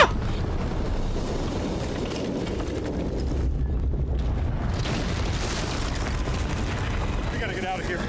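A hand grenade going off in a cinematic video game trailer: a dense, sustained rumbling boom with heavy low-end, ending in crackling debris, with voices talking over it.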